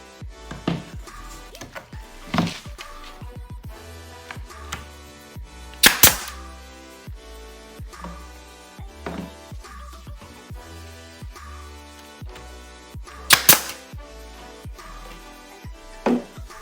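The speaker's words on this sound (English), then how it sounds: "put a nail going in on the very end just to add some extra reinforcement so that our frame stays together" A nail gun drives nails into the wooden frame of an IKEA mirror, with a few sharp, loud pops standing out against a quieter background of handling clicks, and no talking.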